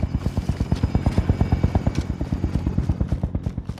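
Helicopter in Call of Duty Warzone on the Verdansk map, its rotor thumping in a fast, regular pulse, loud and close overhead and holding steady for several seconds.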